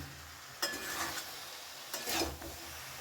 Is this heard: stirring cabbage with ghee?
yes